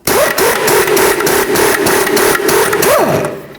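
A power tool with an 18mm socket whines and hammers loudly in a continuous burst, zipping off the outer tie rod nut on a 2007-12 Dodge Caliber front end.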